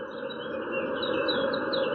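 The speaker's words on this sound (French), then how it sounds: "Écouter les oiseaux, ça nous fait un peu oublier les problèmes." Morning birds sing faintly over a steady, hissing outdoor background, their high chirps thin and distant, with no one speaking.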